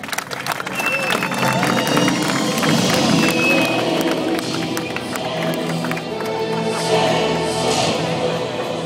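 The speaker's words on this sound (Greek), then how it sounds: "Χειροκροτήστε τον Βασίλη." A live show audience bursts into sustained clapping and applause, dense and loud throughout, with some cheering mixed in and a faint voice under it.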